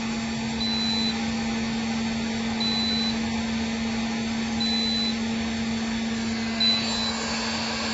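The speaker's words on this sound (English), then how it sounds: "Heat gun is still going," A heat gun runs continuously during a lithium LiFePO4 battery UPS load test, giving a steady, even blowing whir with a constant hum and no speech.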